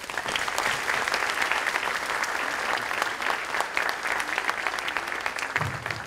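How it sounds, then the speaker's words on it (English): An audience at a nursing career program event gives a big, steady round of applause that carries on without pause from start to finish. "Please give him a big round of applause."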